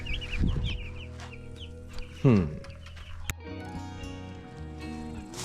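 Chicks and chickens cluck softly at close range in a backyard setting, with a few short chirps and one louder squawk partway through over a quiet background.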